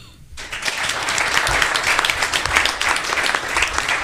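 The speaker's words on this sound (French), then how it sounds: "On peut l'applaudir." Audience applause for a guest on a French tech-business show, starting abruptly after a brief quiet moment and continuing as a steady, dense wash of clapping for about four seconds with no one talking over it.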